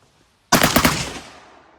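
A 12 gauge shotgun mounted on an M60 fires on a forced reset trigger, a rapid burst of several loud, close blasts run together after a short silence, trailing off into echo.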